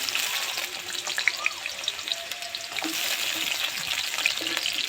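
Carrots and green beans sizzle steadily in hot oil, a dense close crackle with faint scattered pops and brief utensil touches, no voices.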